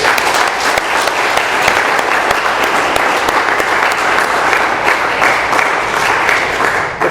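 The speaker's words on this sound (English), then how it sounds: "Let's have another round of applause for our speakers." Loud, sustained applause from a sizeable audience at an Alcoholics Anonymous meeting, many hands clapping steadily throughout before tapering slightly at the end.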